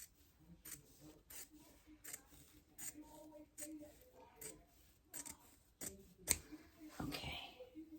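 Scissors snip repeatedly at a shirt seam, a steady series of sharp, close cuts with a few louder clipping strokes near the end.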